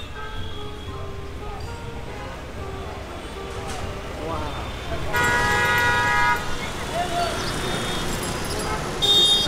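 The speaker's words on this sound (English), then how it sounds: "Look at the traffic." Busy street traffic in Mumbai, a continuous rumble of passing cars and buses punctuated by repeated short car horn toots, some near and loud, with a voice speaking over the street noise.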